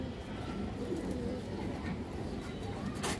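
Pair of Army breed pigeons cooing close by, soft low rolling coos repeating through a steady murmur of background noise.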